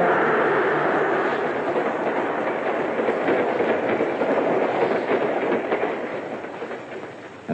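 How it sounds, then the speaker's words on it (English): A 1940 Baltimore & Ohio passenger train passes under a highway crossing, a loud rolling roar with rhythmic wheel clatter that gradually fades, heard alone. "The train is passing under a safe highway crossing built above the tracks."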